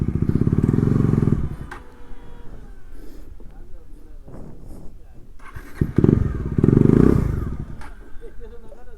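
A motorcycle engine labours loudly as the bike is ridden uphill, with two strong sustained pulls separated by a quieter stretch of clatter and voices talking nearby.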